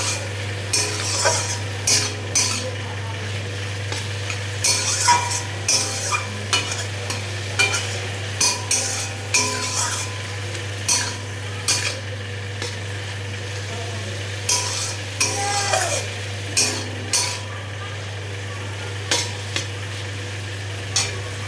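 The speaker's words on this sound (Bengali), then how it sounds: "শাকটাকে ভাজছি।" Leafy greens (shak) fry in a pan in a home kitchen, a continuous sizzle with repeated rhythmic scrapes of a spatula stirring, over a steady low hum.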